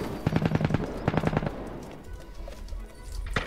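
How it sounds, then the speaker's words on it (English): Rapid bursts of automatic gunfire from the battle royale video game Cuisine Royale, two sharp volleys fired back to back, followed by a quieter stretch of distant crackling shots. "Now the gun sounds so deadly, and you feel like it when you're getting shot at."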